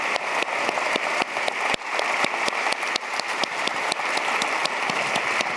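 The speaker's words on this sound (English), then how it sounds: "so we can give you a big round of applause" Conference audience applauding at a closing session as young ambassadors stand and leave the stage; steady, crackling clapping from many hands throughout, with sharp individual claps standing out.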